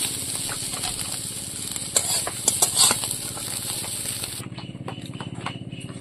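Fried bitter gourd sizzles in a hot pan beside a fish curry with aubergine, a steady frying hiss with scattered clinks and stirring scrapes that quiets near the end.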